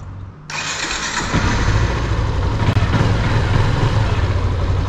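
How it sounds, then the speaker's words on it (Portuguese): A Yamaha XTZ Crosser motorcycle engine catches at about half a second and then settles into a steady, fairly loud idle with a low throb while warming up, and no one speaks. "Já deixei a moto esquentando aqui,"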